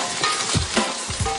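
A fish head fries in a pan for a clay-pot dish, giving a steady hissing sizzle with a few soft low pops throughout, close up and with no talking.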